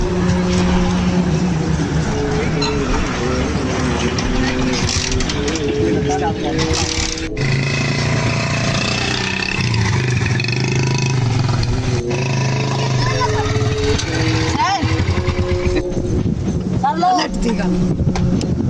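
A car engine hums steadily while being driven, with road noise throughout and people talking over it inside the vehicle.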